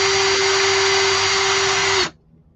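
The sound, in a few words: power drill drilling a tiny piece of wood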